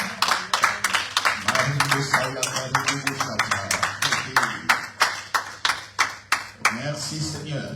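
Church congregation clapping hands together in a steady, loud rhythmic beat, many hands in unison, with a pastor's voice talking over the claps.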